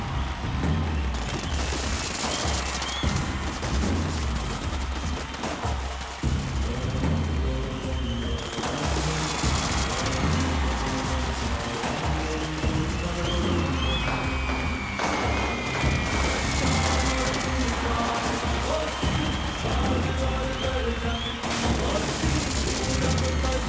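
Stage fireworks at a film event, a long barrage of loud booms, crackles and rapid pops bursting continuously, with whistling streaks rising between blasts and no pause for over twenty seconds.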